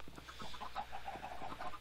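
Chickens cluck in the Minecraft FTB Infinity game, a quick run of short, soft clucks in steady succession over a faint background hum.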